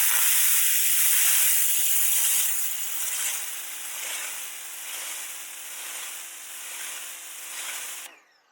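An ANYKIT electric pressure washer sprays water with a loud, steady hiss under a motor hum, close and continuous, easing slightly before cutting off abruptly near the end.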